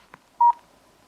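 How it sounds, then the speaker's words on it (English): An IPEVO WiFi phone for Skype gives one short, clean electronic key tone as its left soft key is pressed to switch it off, preceded by a faint tap, in a quiet room. "I'm just going to go ahead and hit the left soft key to switch the phone off."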